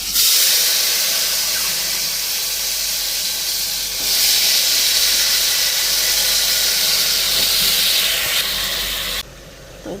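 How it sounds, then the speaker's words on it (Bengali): A pressure cooker with curry inside lets out a loud, continuous hiss of escaping steam that holds steady for nearly ten seconds, then cuts off abruptly. "এখন তরকারিটা বসাই প্রেশার কুকারে দিলাম"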